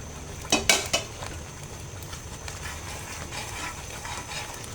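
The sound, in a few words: stirring milk powder and dry coconut in a pan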